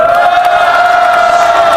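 A large crowd of union members at a rally lets out a sustained, loud cheering roar after a chant, a continuous wall of shouting voices with no pauses.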